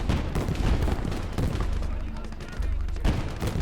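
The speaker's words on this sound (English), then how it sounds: "I can actually shoot him." Rapid battlefield gunfire from the WWII strategy game Gates of Hell: Liberation, dense overlapping shots and bursts booming loud and continuous throughout, with a low rumble underneath.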